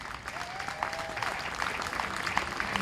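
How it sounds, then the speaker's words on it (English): Audience applause at a county fair queen contest in central Iowa, a fairly faint steady patter of clapping with a brief whistle-like tone early on. "Give her a big round of applause."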